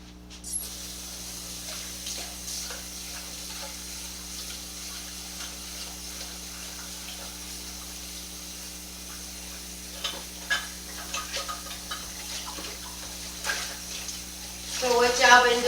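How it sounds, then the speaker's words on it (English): Tap water runs steadily into a sink while a sticky pan is washed, a soft continuous hiss with scattered scrubbing clinks and knocks that grow louder toward the end. "I'm going to wash the pan so that all that stickiness can come out."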